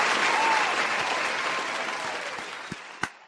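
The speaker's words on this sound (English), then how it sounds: "let's give a round of applause for Miss Jackson" Crowd applause for Miss Jackson, a dense sustained clapping that fades slightly toward the end, with a couple of sharp louder claps near the close.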